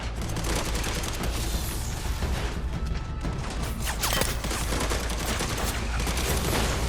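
Continuous heavy automatic gunfire and bursts in the action MMO game Ashfall, loud and dense throughout with booming impacts and mechanical clatter, no talk.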